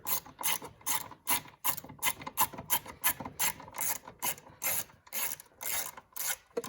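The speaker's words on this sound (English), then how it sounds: "just snug them up both ends and tighten it down so the battery is secure" A ratchet clicks in quick bursts while tightening the battery hold-down nut on an Infiniti car, close and loud, with short pauses between strokes and no talk.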